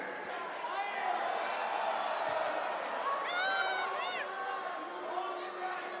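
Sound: crowd cheering in a WWE video game

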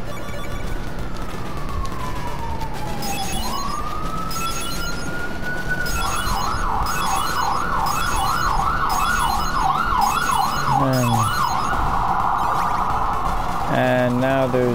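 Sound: ambulance siren passing

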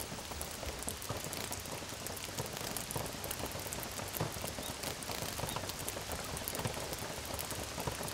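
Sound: spring rain falling overnight

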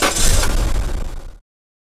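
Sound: car engine starting during ignition timing check

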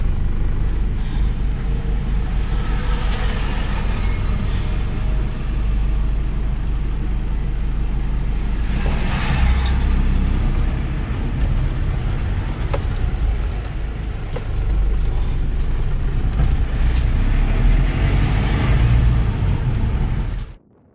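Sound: car passing on St Helena Island

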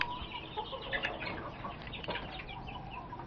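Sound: gamefowl roosters clucking at a gamefarm

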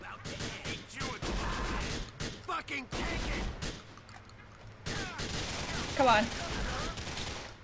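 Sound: gunfire in video game GTA 4 The Lost and Damned

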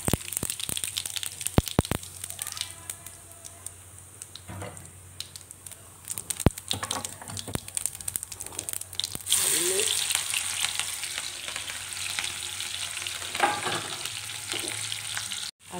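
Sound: cumin seeds sizzling in hot oil

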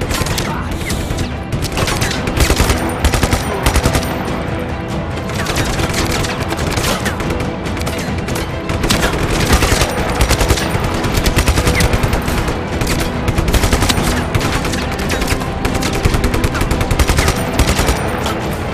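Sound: gunfire from weapons in the video game Just Cause 3

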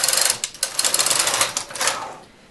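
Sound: knitting machine carriage knitting a single row

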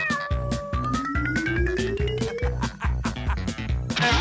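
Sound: cat meowing

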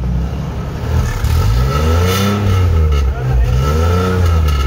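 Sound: car engine revving with 3-inch straight pipe exhaust

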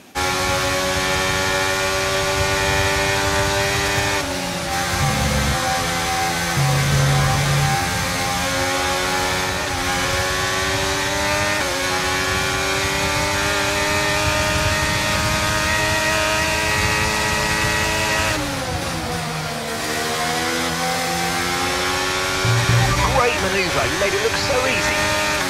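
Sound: race cars overtaking in a racing video game

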